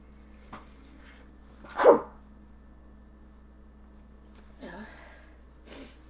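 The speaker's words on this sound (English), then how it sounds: "Believe it or not, that was a quiet sneeze." One muffled sneeze close to the mic, followed by a couple of faint breathy sounds in a quiet room.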